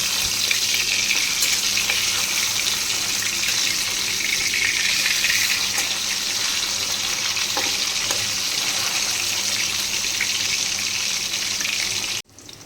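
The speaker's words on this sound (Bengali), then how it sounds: "মাছটার এক পিঠ লাল করে ভাজা হয়ে গেলে আর এক পিঠ ভেজে নেব মানে দু পিঠই লাল লাল করে ভেজে নেব" Fish fries in hot oil in a wok, giving a loud, steady sizzle and crackle throughout before stopping abruptly at the end, with no talk.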